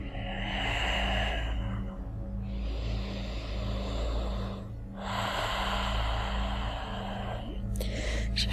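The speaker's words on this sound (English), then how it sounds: "Ujjayi breathing." Slow, even ujjayi breaths during a yoga session, drawn out as long hushed ocean-like rushes of air, three in a row, over a steady low hum.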